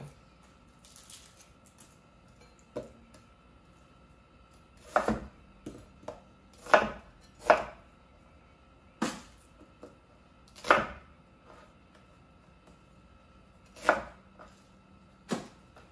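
A knife chops through a white onion on a cutting board, giving about a dozen sharp, close knocks at an uneven pace with brief pauses, over a quiet background and no talking.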